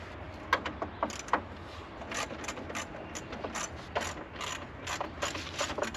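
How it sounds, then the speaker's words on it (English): A ratchet and socket turn a bolt on an engine pulley of a 1977 Mercury Grand Marquis that has sat for years, giving a string of close, irregular metallic clicks in a quiet space. "That way we can actually get a ratchet in a socket on the pulley."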